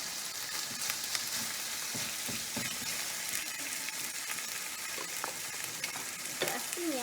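Steak and garlic sizzle and fry steadily in a hot pan, a dense crackling hiss with occasional scraping stirs, close and continuous with no talking.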